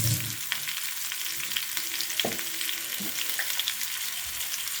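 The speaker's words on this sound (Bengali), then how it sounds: "এবার ভালোভাবে আলুগুলো ভেজে নেব" Potatoes, already pressure-cooked to one whistle and salted, frying in a pan for a paneer dish: a steady broadband sizzle runs throughout, with a few soft stirring knocks and scrapes.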